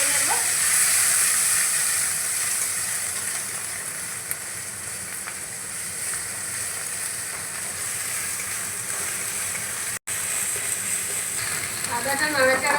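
Ginger paste frying in hot oil in a pan for a potol chingri (pointed gourd with prawns) curry, a loud continuous close sizzle and hiss with occasional stirring scrapes, briefly cut near the end.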